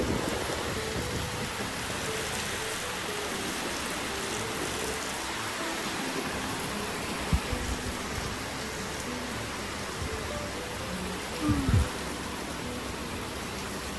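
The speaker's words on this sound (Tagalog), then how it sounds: "Andun yung ulan." Heavy rain from Super Typhoon Uwan pours down in a dense, continuous hiss for about fourteen seconds, with a couple of brief thuds near the end and no talk.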